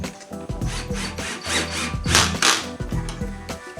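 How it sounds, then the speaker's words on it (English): Pocket hole screws driven into wood panels of a storage bin shelf unit with a power driver, a steady buzzing whir with repeated short bursts and pauses, close and loud throughout. "Just run these screws in,"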